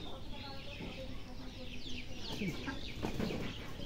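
Chickens cluck faintly in a village yard, a few scattered low clucks and calls, with a faint voice and other background sound.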